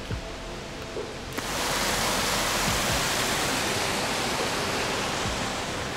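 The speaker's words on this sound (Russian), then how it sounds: "А внизу водопады, речка такая. Все шумит, бурлит." Loud, steady roar of a waterfall and rushing river below, in Germany in winter, a dense wash of noise that swells in after a quieter moment and continues unbroken.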